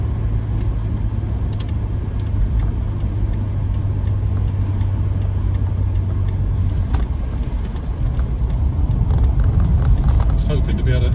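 A BMW 635CSi E24 with a dogleg manual gearbox drives along, its engine humming steadily from inside the car with a low drone and a shift in tone late on, while someone talks over it.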